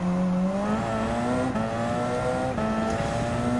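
A Renault 787B race car in Gran Turismo 7 at Interlagos roars loud and close, its engine note holding a steady high drone that climbs slightly through the run, with no voices over it.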